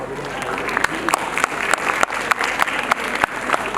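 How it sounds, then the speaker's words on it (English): Audience applause at a school annual day award ceremony, steady clapping from a crowd with scattered sharper claps standing out, fairly close and continuous throughout. "Let's celebrate their unwavering commitment to excellence in character with a big round of applause."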